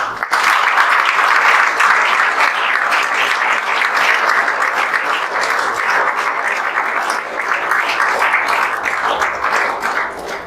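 A standing audience claps for the cooks who prepared their meals, a dense, loud, sustained round of applause that fills the room evenly for about ten seconds with no talking over it.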